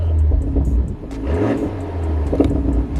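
A BMW M340i with an aftermarket exhaust revs up and drops back, a deep, rumbling exhaust note rising and falling close by, with no talking.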